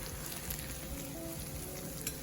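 Fish and onion frying in a pan give a steady, close sizzle that stays even and unbroken from start to finish, with no voices.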